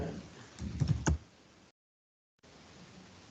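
Quick burst of keystrokes on a computer keyboard, a handful of close clicks ending in a firmer tap, followed by quiet room noise and a brief dead gap.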